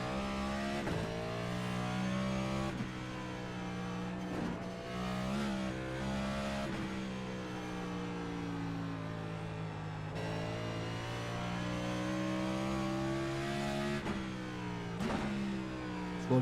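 A NASCAR stock car V8 roars on the Nordschleife, heard as a steady, loud onboard engine drone with harmonic pitch swells as revs rise and dip through gear changes, no talk over it.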